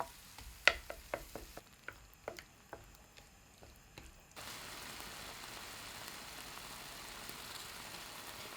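Onions and tomatoes frying for beef curry, stirred over medium heat: a series of sharp clicks and scrapes from stirring, then a steady, soft sizzle that carries on alone at a low level.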